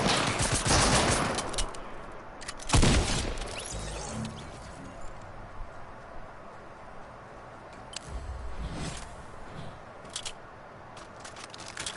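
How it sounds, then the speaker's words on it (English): Loud gunfire in a Fortnite match, with dense bursts of rapid shots at the start and a sharp heavy report near three seconds, followed by scattered quieter shots over a low game ambience. "Why is your gun so freaking loud?"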